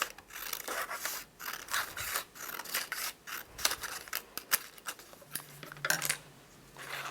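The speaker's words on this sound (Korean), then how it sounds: "이 띠를 우리가 그은 볼펜 자국을 따라서 한번 잘라보도록 하겠습니다" Scissors snip through a paper strip along a drawn ballpoint pen line, cutting a looped strip for a Möbius strip craft; a run of close, crisp cuts and rustles with brief pauses, no talking.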